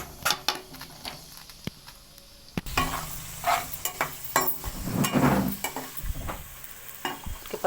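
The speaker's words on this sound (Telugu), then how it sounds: "నెయ్యి 2 వేసి ఒక పన్నీరు 1 నిమిషం వేగనిద్దాం, సరిపోతుంది. కొంచెం వేడెక్కినాక పన్నీర్ ముక్కలు వేసేద్దాం." Paneer pieces frying in ghee and a little oil in a pan for palak paneer, with a close, continuous sizzle broken by stirring scrapes and clinks of a utensil against the pan.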